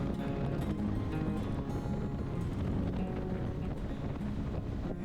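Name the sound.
wind blowing on a hillside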